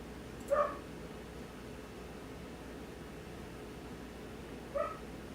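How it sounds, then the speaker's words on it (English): A few distant dog barks, two short yips spaced several seconds apart, rising faintly over a steady background hiss. "Sorry about the barking dogs, you can hear that in the background."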